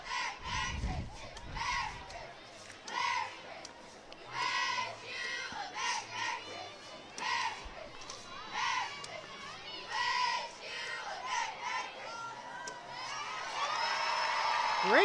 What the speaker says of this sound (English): Let's listen to them cheer.